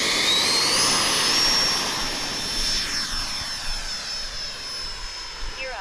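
A radio-controlled Intruder model jet roars loudly up close on takeoff with a high turbine whine, then fades and sweeps as it climbs away into the distance.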